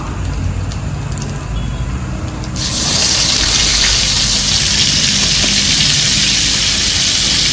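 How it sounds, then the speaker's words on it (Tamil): Chopped onions go into a hot pan of oil that already holds a little fennel seed. A soft background hiss suddenly swells into a loud, steady, close sizzle that fills the rest of the clip without speech. "இப்போ நம்ம வெங்காயம் போடுறோம்"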